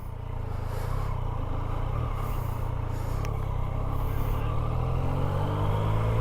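A Yamaha FZ-09 motorcycle engine runs on a first ride, a steady low rumble with a faint rise near the end under wind, with no talk.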